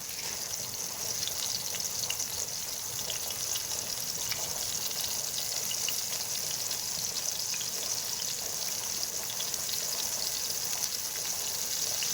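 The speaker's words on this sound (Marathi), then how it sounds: "आपल्या बंबीला आहे ना तो फ्राय होत आहे" Bombil (Bombay duck) fish, coated in rava, fry steadily in hot oil, giving a continuous, even sizzle with fine crackle throughout, close and fairly loud, with no talking.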